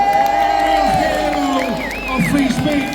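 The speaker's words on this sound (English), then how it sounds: "Let's have an absolutely massive round of applause for Tao," Large outdoor political rally crowd in London cheering, whooping and shouting, loud and dense, with some clapping mixed into the roar and overlapping voices.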